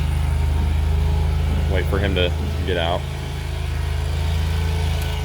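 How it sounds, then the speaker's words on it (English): A lawn mower engine runs loudly and steadily close by as it is pushed along, its constant rumbling drone continuing under a short burst of speech. "as Dad moves the lawnmower"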